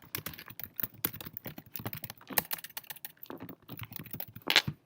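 Quiet, irregular typing on a computer keyboard, with clusters of key clicks and a few louder taps and pauses between them. No one speaks.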